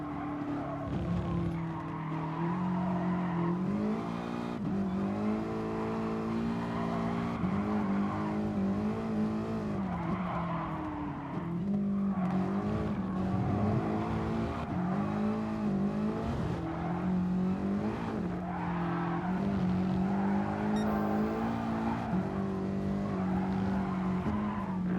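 Simulated race car in Gran Turismo Sport, engine droning and shifting pitch steadily as it brakes and corners, with tyre skids and squeals layered over a continuous, moderately loud game soundtrack and no talk.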